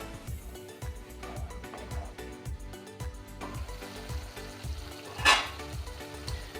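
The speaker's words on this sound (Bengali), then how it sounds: "মশলাটা আমার কষে গেছে" Spice paste frying in a pan for cauliflower curry, a low steady sizzle under repeated stirring and scraping taps, with one sharp clatter near the end.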